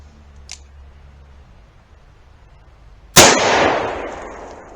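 A single loud gunshot from a Colt Trooper Mark III .357 Magnum revolver cracks sharply after a quiet stretch, then its echo booms and decays outdoors for over a second.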